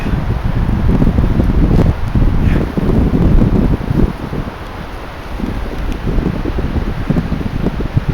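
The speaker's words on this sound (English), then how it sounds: "it's getting really windy in here" Strong wind gusts through trees with rustling leaves, loud and continuous and swelling and easing in waves.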